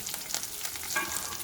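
Whole red chillies and chopped coriander fry in oil over a low flame, giving a steady close sizzle with soft scraping as they are stirred, and no talking.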